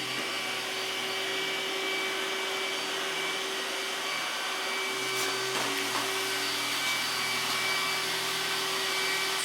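An iRobot Roomba S9+ robot vacuum runs with a steady, loud motor whine and hum throughout, with a brief grinding scrape partway through as it rubs against a rail.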